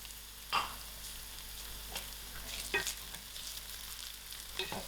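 Onions frying in a pan until soft and turning light brown, giving a steady faint sizzle with a few sharp stirring scrapes and clinks at intervals.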